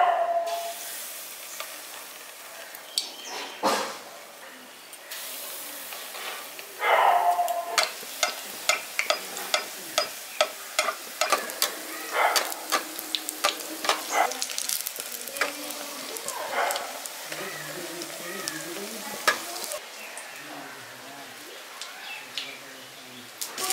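Spoonfuls of village-style egg batter for fulka fritters hit hot oil one by one, each drop setting off a crackling sizzle that builds into a busy, popping fry, close and moderately loud, with faint background sounds.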